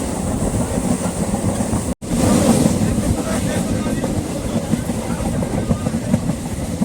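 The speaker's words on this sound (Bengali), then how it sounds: "ট্রেন চলে এসছে" A train rumbles past nearby with a steady, heavy roar and rattling wheels, continuing loudly throughout with a brief cut partway through.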